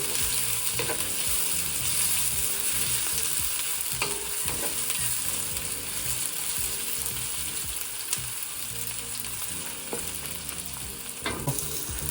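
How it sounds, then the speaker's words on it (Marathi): Sliced onions fry for shrimp fried rice in a pan, giving a steady, bright sizzle throughout, with occasional scrapes and taps of stirring and no talking. "कांदा थोडंसं लाल होईपर्यंत ठेवायचं."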